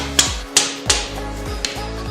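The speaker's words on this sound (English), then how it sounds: "And all we're gonna do is just tap this back in." A spacer is tapped into the rearset bolt of a Spyker MSX125 motorcycle, giving about five sharp, close metallic knocks at an uneven pace with quiet pauses between them.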